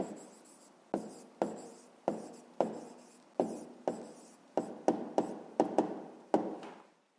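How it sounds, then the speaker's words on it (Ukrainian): Pen or pencil strokes tap and scratch on paper at close range, about a dozen quick sharp marks in an irregular rhythm, each followed by a short scrape, with no talk. "Ну що ж, записуємо тоді відповідь."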